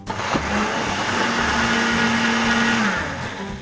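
A blender purees mango, whirring loudly and steadily for several seconds, its motor pitch holding constant before easing off slightly at the end.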